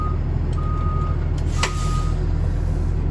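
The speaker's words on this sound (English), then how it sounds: "he has to be able to hear the audible alarm for backing up" A school bus backup alarm beeps during a reversing-light check, steady repeated tones sounding over a loud, constant idling diesel engine rumble.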